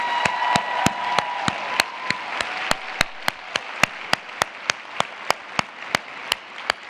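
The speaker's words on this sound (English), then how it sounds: "Could we give them one more round of applause?" An audience applauds after a student performance at an education conference. Dense, sustained clapping fills the room, with some crowd noise and a hint of cheering underneath, and the clapping thins gradually toward the end.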